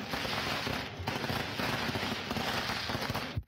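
Fireworks going off in the small hours of the night, a dense, continuous crackling barrage of rapid pops and bangs that keeps going without a break, fairly close and loud, with no talking.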